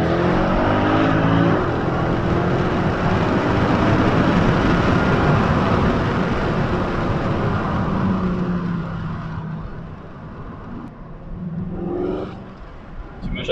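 Mercedes C63 AMG Pack Performance V8 with four catalytic converters, heard from the cabin: a loud, steady engine and exhaust drone as it drives and accelerates, easing off near the end with a few exhaust crackles.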